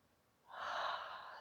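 A single deep breath during a stretchy yoga flow, a soft airy inhale swelling after a short quiet moment and then easing off, close and breathy with no talking.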